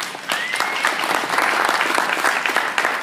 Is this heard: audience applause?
yes